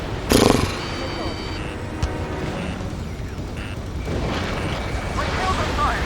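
A missile striking a fighter jet in Ace Combat 7 gives one sharp, loud explosive burst near the start, then a sustained rumble of jet engine and fire, with radio voices talking throughout.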